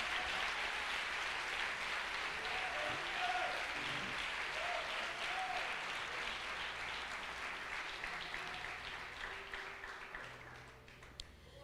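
A church congregation claps during a Friday evening service, the sustained applause steady for most of the stretch before gradually thinning and fading toward the end, with faint tonal sounds underneath.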